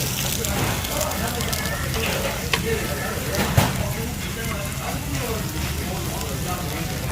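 Frozen pork belly grilling at a Yeouido restaurant, a steady broadband sizzle with crackling pops running throughout, busy and close, with restaurant noise and voices underneath.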